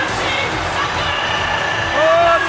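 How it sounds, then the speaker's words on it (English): A packed arena crowd at a Pride FC mixed martial arts event roars and cheers loudly, swelling further near the end, with scattered whoops and a commentator talking over the noise. "Listen to the crowd."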